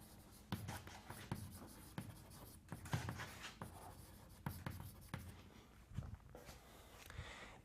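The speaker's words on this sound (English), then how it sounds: "So let me write this down." Chalk or marker scratching and tapping across a board during a mathematics lecture on set theory, a steady run of close strokes and taps with brief pauses and no talk.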